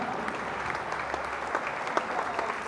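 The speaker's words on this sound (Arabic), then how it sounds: "الادباء ديالنا صفقوا على العلماء ديالنا" An audience at a lively event claps together, a dense, steady patter of many hands at moderate loudness throughout, with no speech over it.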